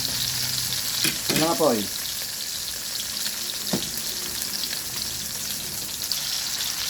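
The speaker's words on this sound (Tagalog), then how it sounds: "Luto ko na burger steak ha. Beef po yan, beef." A beef burger steak fries in a pan with a steady, bright sizzle. A few clanks of stirring and utensils cut through it, and a voice says a brief phrase over the frying.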